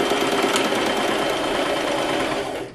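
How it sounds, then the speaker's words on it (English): A sewing machine stitches a backward stitch on a ribbon-trimmed tutu, a fast, loud, steady motor whir that tapers off at the end. "Now we're gonna do a backward stitch"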